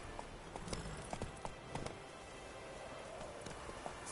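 Horse galloping in The Witcher 3 video game, a rapid rhythmic series of hoof clip-clops, fairly faint and steady over a low background.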